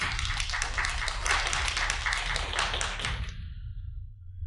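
Applause greets an emissary at a formal gathering, a dense patter of many hands clapping steadily for about three seconds before cutting off abruptly, leaving a low rumble.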